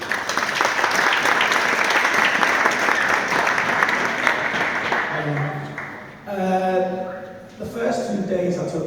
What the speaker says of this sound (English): please give a round of applause to Coach Jordan